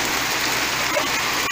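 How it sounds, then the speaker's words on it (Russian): Hail falls onto asphalt and a garage in Verkhovye, a dense, fast, steady pattering with a few sharper impacts, close by and with no voices. "О, град такой, смотри."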